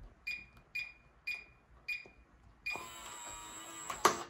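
A Kwikset Powerbolt 2 deadbolt lock gives four short, evenly spaced electronic beeps up close, followed by a sustained mechanical whir with a sharp click near the end.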